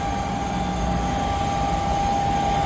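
Steady aircraft engine drone at an airport as a plane undergoes pre-flight checks in Las Vegas, a constant loud hum with a sustained tonal whine, continuous throughout with no talking.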